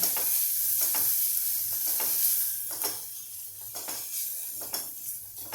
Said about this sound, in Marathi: आता आपण आपली भाजी छानपैकी अशी परतवून घेऊया